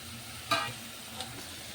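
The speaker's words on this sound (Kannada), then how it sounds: "ಈಗ ನೋಡಿ ಟಮಟನ್ ಹಾಕಿ ಈಗ ಚಂದನತೆ ಈಗ ಫ್ರೈ ಮಾಡ್ಕೊಂಡೀನಿ" Tomatoes frying in a pan, a low steady sizzle with a couple of brief stirring scrapes, fairly faint and close, no talking.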